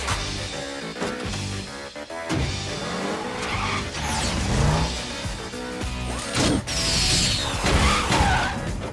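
Cartoon car skidding with squealing tires, loud and sustained over busy music and effects in an animated chase scene.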